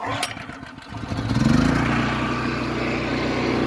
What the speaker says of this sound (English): That trusty old Predator fires to life.